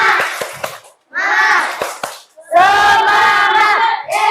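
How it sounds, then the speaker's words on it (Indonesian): In a classroom, a group of children performs the tepuk semangat clapping chant: bursts of rhythmic hand claps with shouted voices in three loud phrases, separated by short pauses. "Kita tepuk semangat dulu biar tetap semangat."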